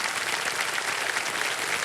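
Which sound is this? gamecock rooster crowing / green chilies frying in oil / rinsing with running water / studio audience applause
studio audience applause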